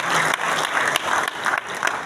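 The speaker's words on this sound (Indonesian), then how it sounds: "Kita tepuk tangan dulu kader Brigade Manguni Indonesia." A crowd at an Indonesian Brigade Manguni national leadership meeting claps together, dense steady applause with a few louder bursts, close and lively.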